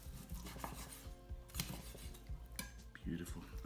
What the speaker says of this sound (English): So, cutting against the grain. Thin, nice thin slices on there.